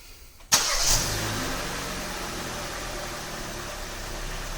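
A 2021-2022 Kia Seltos engine starts by remote start with a sudden crank and catch, then settles into a steady, close idle hum that continues to the end.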